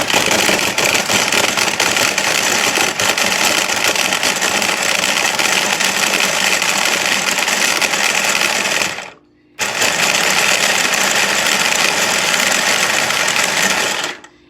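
A battery-powered handheld kitchen chopper breaks chunks of Parmesan with a loud, steady motor buzz. It runs for about nine seconds, cuts out briefly, then starts again for several more seconds.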